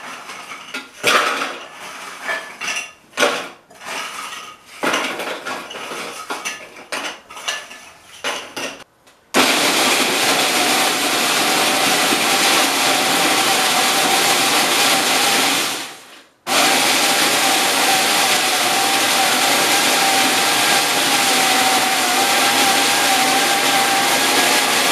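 A food processor or blender grinds crackers for a key lime pie crust. It starts with several short bursty pulses, then settles into a long, steady, loud whirring roar that briefly cuts out and restarts.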